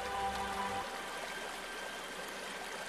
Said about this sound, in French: il y a un petit ruisseau au fond de la gorge où l'on peut se faufiler entre les parois